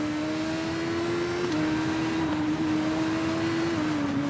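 A superbike engine at full throttle in the racing game TT Isle of Man 2, a steady high-pitched whine holding near flat out with small drops in pitch at gear changes, alone without talk.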